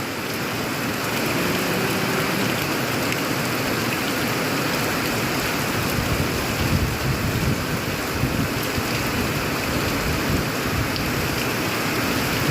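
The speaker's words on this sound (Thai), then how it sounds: "มืดท่วมไปเบิดเพราะว่าฝนมันตก" Heavy rain falls in a steady, dense roar that stays loud and unbroken throughout, with no voices over it.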